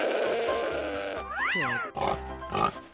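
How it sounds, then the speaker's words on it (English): Cartoon pig grunting and oinking alone, a short burst of exaggerated, sweeping squeals and grunts, near and loud against a busy backdrop of cartoon music. "Pig."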